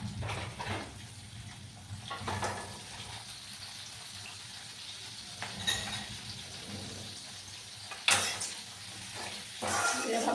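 Pumpkin curry with turmeric and salt is stirred in a pan, soft scraping and clinking strokes recurring at intervals over a quiet, low sizzle.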